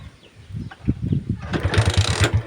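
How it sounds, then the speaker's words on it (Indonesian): A small Indonesian scooter-style motorcycle, a Suzuki Smash with a charging fault, is started and catches, its engine settling into a rough, steady idle chugging close by with mechanical rattle and no talk. "Kita nyalahin lagi motornya."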